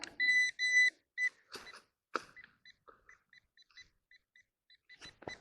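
Equinox 800 metal detector giving a string of high electronic beeps and tones, a couple of longer doubled tones followed by short scattered blips and faint scraping, out detecting among rusty scrap iron.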